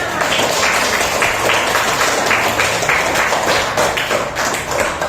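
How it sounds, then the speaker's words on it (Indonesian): Classroom children clapping together for a classmate's answer, a loud, close, steady burst of many small hands sustained throughout. "Tepuk tangan untuk jawabannya."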